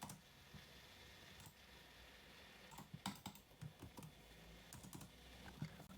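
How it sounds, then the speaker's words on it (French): Computer keyboard typing and mouse clicks in a quiet room: soft, scattered keystrokes and clicks, faint at first, then more frequent and slightly louder in the second half, with no talking. "À part des bruits de clavier ou des bruits de souris"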